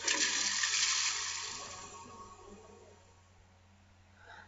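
A toilet flushes in the Shakes & Fidget game, a loud rushing gush of water at the start that fades into a quieter trickle, alone with no talk.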